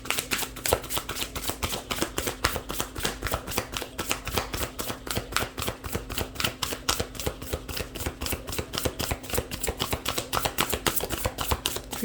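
Tarot cards are shuffled steadily for twelve seconds, a dense run of quick papery riffles and flicks at close range, with no voice over them.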